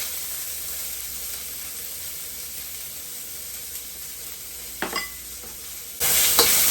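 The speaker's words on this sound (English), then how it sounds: "We're going to add our onions to the wok." Onions hit hot oil in a wok and sizzle with a steady, close hiss, rising to a louder, brighter burst of frying in the last second.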